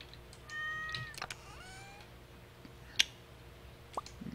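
A cat meows softly in a Stardew Valley farm scene, with a couple of brief rising calls near the start and a short chirp later, set against quiet game background sounds and no talking.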